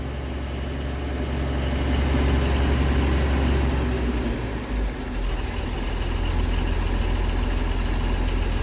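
A Versatile 875 tractor engine idling, a deep, steady low rumble that holds even throughout, with a brief dip midway and no talking.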